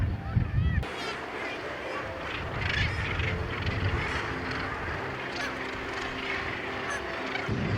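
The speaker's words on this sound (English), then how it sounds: "Gannets are the largest seabirds in the North Atlantic" A dense colony of northern gannets calls at once in Newfoundland, harsh overlapping honking cries, loud and continuous, with wind and surf noise underneath.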